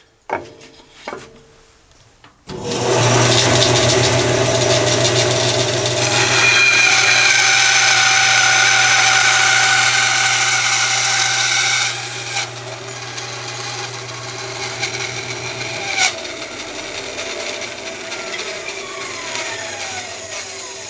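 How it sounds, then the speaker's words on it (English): A bandsaw rips wood against a rip fence set a quarter inch from the blade, a loud rasping, buzzing cut starting after a few quiet knocks, holding steady, then easing to a lighter whir as the motor keeps running. "I have the bandsaw set to cut this using the rip fence."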